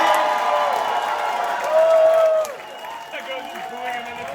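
Roast battle crowd cheering and applauding loudly, with voices and whoops mixed into a dense wash of noise that drops partway through and carries on more quietly.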